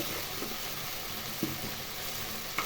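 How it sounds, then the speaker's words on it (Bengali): Garam masala and tomato, stone-ground into a paste, sizzling in a pan for rohu fish curry, a soft steady fizz with a few faint clinks, quiet and close. "গরম মশলা ও টমেটো শিলপাটায় বেটে নিয়ে এর মধ্যে দিয়ে দিলাম"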